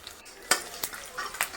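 A tempering of sesame seeds, mustard seeds, cumin, asafoetida, green chillies and curry leaves crackles in oil over a low flame, with a quiet sizzle and three or four sharp clinks of a spoon against the pan.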